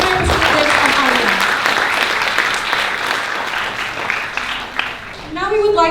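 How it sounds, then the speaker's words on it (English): Audience applause at a university seminar marking an ASEAN anniversary, sustained clapping filling the room for about five seconds, then a voice over a microphone starting up near the end. "Please give a big round of applause for our 10 country permanent representatives from ASEAN."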